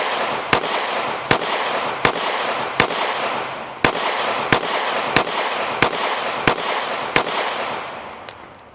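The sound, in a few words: gunshots from S&W CSX Micro 9 pistol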